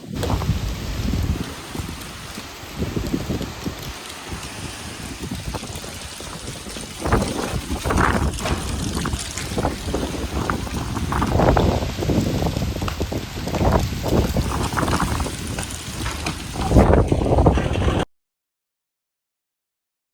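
Strong storm wind roars and gusts continuously, loud and close, with rough buffeting bursts building toward the end; no voices.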